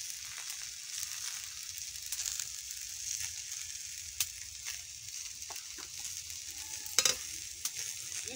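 Cauliflower stems with chilli frying in a pan under a low, steady sizzle, broken by a few sharp spatula scrapes near the end.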